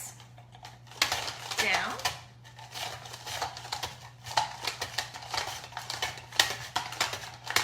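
Quick, repeated scraping strokes of pumpkin being sliced on a mandoline slicer fitted with a hand guard, close and rhythmic, with a steady hum underneath and brief speech.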